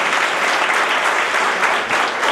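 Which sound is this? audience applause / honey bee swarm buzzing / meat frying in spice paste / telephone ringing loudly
audience applause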